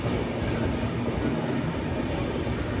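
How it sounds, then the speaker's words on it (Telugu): A passenger train pulls in at a railway station on a Pune to Hyderabad journey, a steady loud rumble of wheels and carriages rolling past close by, continuous throughout with no voices. "ఇగో ట్రైన్ కూడా వచ్చేసింది మనకి"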